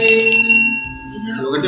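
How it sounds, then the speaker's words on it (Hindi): A small brass hand bell rings during a Satyanarayan puja, giving a bright, sustained metallic tone that fades and is then struck again, with voices murmuring close by. "घंटी बजाओ।"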